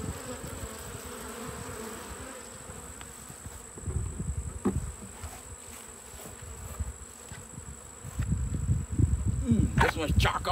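Honey bees buzz steadily around hive frames being pulled during a field honey harvest, a continuous low drone that swells louder toward the end, with a person talking over it.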